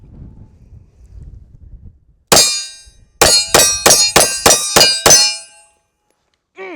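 A Tisas ZIG PC1911 Duty .45 ACP pistol fired at steel: one loud clang, a pause, then a rapid string of six more ringing hits at a steady pace, close and sharp, following faint wind noise.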